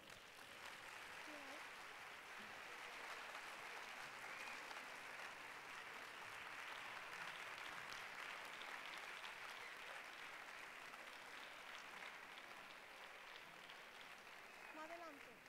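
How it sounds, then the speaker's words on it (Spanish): Sustained, dense applause from a large crowd at a living nativity scene event, steady and loud throughout with no pauses. "recibimos con otro fuerte aplauso al otro cole que ha participado"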